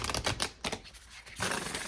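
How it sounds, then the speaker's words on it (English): Oracle cards get shuffled by hand in a quiet room, giving bursts of riffling, papery flutter and slaps close to the mic, with a brief pause in the middle. "One more shuffle here."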